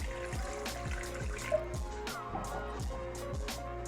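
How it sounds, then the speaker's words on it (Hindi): Water pouring steadily into a metal pot, a continuous close splashing stream with a faint ringing tone and small irregular drips. "1 गिलास के जितना इसमें मैं पानी का डाल दूँगी"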